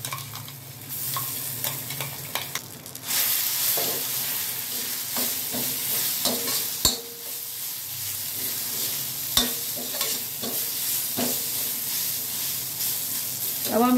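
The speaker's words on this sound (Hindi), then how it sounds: "ये जो हमने दाल पीसी थी इसको इसमें मिला देंगे।" Ground lentil paste is stirred into frying spices in a pan for bedmi poori, producing a loud steady sizzle with scraping stir strokes and a couple of sharp clacks up close, with no talk.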